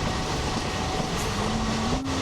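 A passenger train runs on a Tamil Nadu route between Tiruchendur and Srirangam, giving a steady, close rumble of rolling wheels with a faint rising squeal near the end and no voices.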